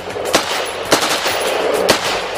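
Rifle shots at a military firing range during soldiers' shooting training. Three sharp single cracks come about half a second to a second apart over a steady background hiss.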